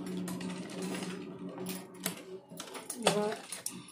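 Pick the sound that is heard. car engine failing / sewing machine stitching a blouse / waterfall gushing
sewing machine stitching a blouse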